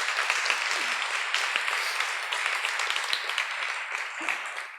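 A large crowd at a community meeting in a church building breaks into sustained applause, a dense steady wash of clapping hands lasting several seconds.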